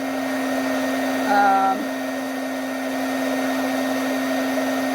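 A heat tool warms the bezel of a bracelet, a continuous loud droning hum with a steady whine and a brief pitch change partway through, close and unbroken.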